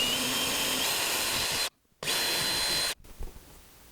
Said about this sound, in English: Need to drill 2 holes here so we can mount the battery box.